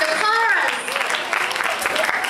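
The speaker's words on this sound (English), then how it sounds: "Give a big round of applause to the" Audience applause at a performance of A Midsummer Night's Dream, a brief burst of clapping with a voice speaking over it near the start.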